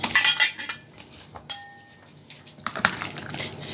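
A metal spoon scrapes and clinks against a bowl while chicken karahi marinade with food colouring is mixed, bursts of close clatter separated by brief quiet pauses and one short ringing tap.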